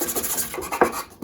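Sandpaper rubbing over a 3D print, short rasping back-and-forth strokes close to the microphone, with one sharper scrape near the end.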